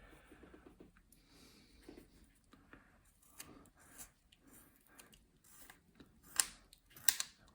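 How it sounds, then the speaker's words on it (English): A carving knife rolling through a small wood carving of an angry bird figure, producing faint, close, irregular scraping and snicking cuts in a quiet room, with a couple of sharper clicks near the end. "Rolling the knife to accentuate that gouge cut I had in there."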